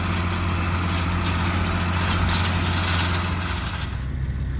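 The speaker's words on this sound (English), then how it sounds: "There goes Ben harrowing away with the John Deere 8410 tractor with the 60-foot 8-bar harrow behind it" John Deere 8410 tractor pulling a 60-foot 8-bar harrow across a dusty field, its engine a steady low rumble with a constant hum, close and even throughout before a slight drop at the end.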